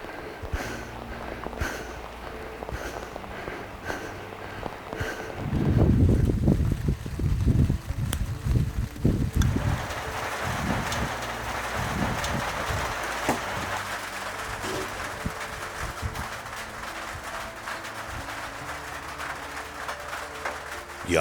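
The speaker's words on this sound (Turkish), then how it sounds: "yağmur yüklü bulutlar artık daha fazla dayanamayarak yerini yağışa bırakıyor" Wind gusts buffet the microphone in Narman, Erzurum, Turkey, then a steady hiss of rain sets in and carries on, with scattered taps and rustles.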